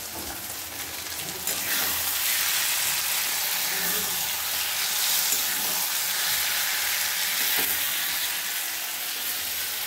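A pan of fish-oil chorchori, a Bengali fish-oil curry, sizzles and fries in a steady, hissing wash. The sound grows louder after a moment and stays close and even, with no talk over it.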